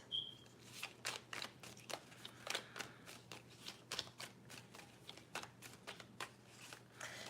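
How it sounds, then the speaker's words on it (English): Tarot cards shuffled by hand in a steady run of crisp riffling flicks, close and fairly quiet, with no voice over them. "I feel like I gotta shuffle one more time."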